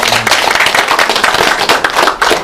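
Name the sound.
audience clapping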